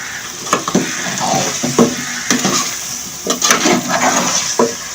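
Spiced boiled potatoes are stirred in a cooking pot, with scraping spoon strokes and soft clatters at an uneven pace over a faint sizzle, close by.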